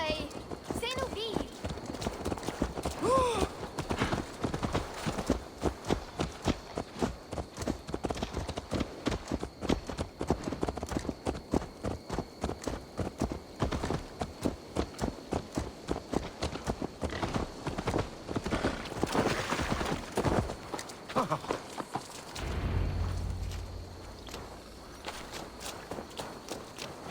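Horse hooves clip-clop steadily at a walking pace in Assassin's Creed Valhalla, close and rhythmic for most of the stretch before fading out near the end, with voices speaking over them.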